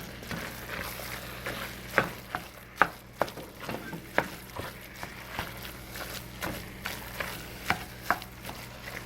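Ground beef and roux being stirred in a pot for hamburger goulash: soft, steady scraping and sizzling, with regular sharp clinks of the utensil against the pot, close and fairly quiet.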